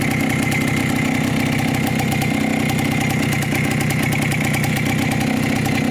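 A Minsk motorcycle engine idles after starting, a loud, close, steady rapid chugging that runs unbroken throughout; the bike has a carburetor that needs work.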